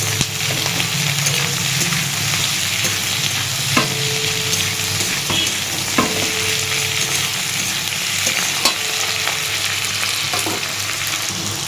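Onion, tomato and capsicum fry together in a hot pan with a steady close sizzle, broken by sharp scraping clicks as a spatula stirs them every couple of seconds. No voices.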